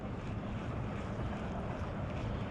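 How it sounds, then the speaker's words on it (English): Wind rushes steadily across a lake during spring bass fishing, a continuous low broadband roar that buffets the microphone, with no talking. "I figure with all that wind blowing."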